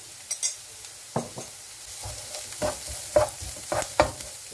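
Spices and thyme sizzle in a pan while a utensil stirs and scrapes, producing irregular clinks over a steady frying hiss.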